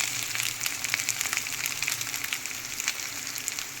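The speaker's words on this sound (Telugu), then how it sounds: "ఇప్పుడు ఇందులో రైస్ వేస్తున్నాను." Rice tipped into a hot frying pan for egg fried rice, giving a steady close sizzle and crackle that runs continuously with small bursts of spitting oil.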